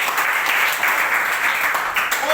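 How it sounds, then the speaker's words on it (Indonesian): Classroom applause, a dense burst of many hands clapping continuously for a couple of seconds, with voices mixed in. "Tepuk tangan dulu ya"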